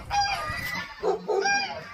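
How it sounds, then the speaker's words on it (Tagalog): Several geese honk close by in a short, overlapping flurry of nasal calls, on a farm in a mountain setting. "Daming gansa."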